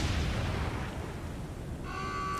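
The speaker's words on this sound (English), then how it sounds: "Major secondary explosion." Major secondary explosion aboard a warship in the naval combat game War on the Sea, a loud, dense rumbling boom that begins strongly and rolls on steadily, with a tonal alarm or whine joining near the end.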